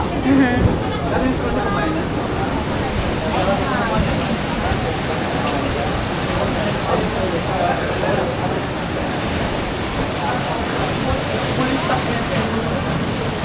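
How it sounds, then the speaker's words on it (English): Sea waves and surf wash steadily around a boat in the Philippines, a dense, continuous rush of water mixed with wind noise on the microphone, loud and close throughout with no clear pauses. "The wave coming and we need to do fast."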